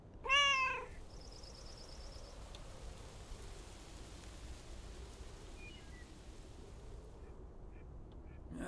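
A cat gives one short, fairly loud meow near the start. Faint electronic chirps and a low hiss follow.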